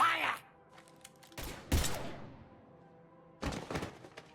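Gunfire bursts in the video game Mass Effect 3, several loud sharp shots in separate clusters with quieter gaps and a low hum between them.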